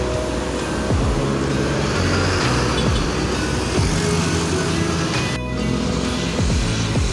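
A PO Raya tour bus bound from Jakarta to Wonogiri passes in busy traffic by a toll entrance at Bambu Apus, steady engine and road noise with several vehicles rumbling by, a continuous moderately loud roadside din without speech.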